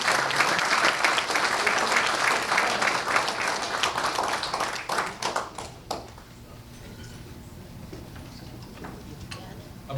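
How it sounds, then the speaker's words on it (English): Crowd applause at a climate conference welcome dinner, a loud, dense patter of many hands that thins into scattered claps and fades out about two-thirds of the way through, leaving quiet room tone. "About a round of applause"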